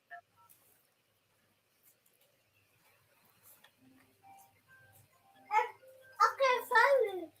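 Phone keypad tones beep in a sparse sequence against near silence, then someone speaks loudly over them.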